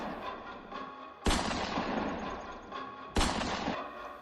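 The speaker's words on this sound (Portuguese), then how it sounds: "Então eu segui a atirar com a espingarda." Two loud shotgun blasts, each a sharp crack that rolls off into a long booming tail, spaced about two seconds apart, with a low ambient rumble between them.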